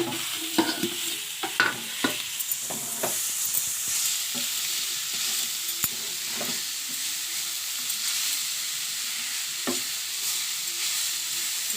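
Grated carrots fry in oil in a pan for gajar halwa, with a steady broadband sizzle running throughout and repeated scraping stir strokes and clinks of a utensil against the pan. No one speaks.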